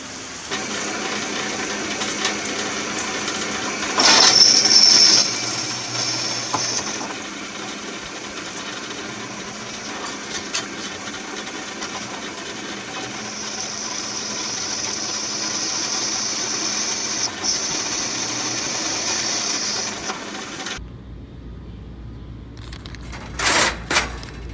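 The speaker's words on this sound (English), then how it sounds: "right now I'm marking to drill 2 more holes" An electric drill bores holes through a metal plate for a homemade John Deere boat motor, a steady whine running for about twenty seconds with a brief louder burst near the start, then stopping before a few sharp clanks.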